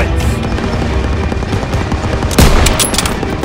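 Rapid machine gun fire and battle noise in Call of Duty: WWII during a street assault with a half-track, a dense continuous rattle punctuated by a loud nearby blast.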